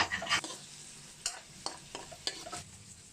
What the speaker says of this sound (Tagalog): Then, halu-haluin natin para kumapit yung lasa ng ating fish sauce.